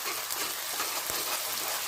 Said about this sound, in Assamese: মছলাখিনি ভালদৰে ভাজিব লাগিব